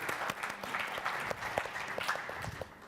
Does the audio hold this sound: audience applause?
yes